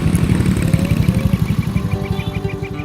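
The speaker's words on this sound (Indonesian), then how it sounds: "Suara motor siapa itu?" A motorcycle engine idles close by outside a house, a steady, rhythmic low putter that runs alone for the whole stretch with no voices over it.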